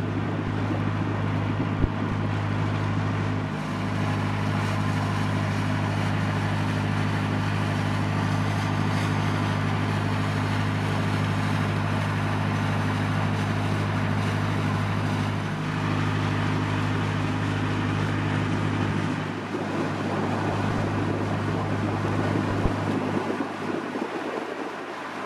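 A narrowboat engine drones steadily on choppy water, a constant low hum with wind buffeting and water noise over it, continuous and fairly loud for the whole stretch.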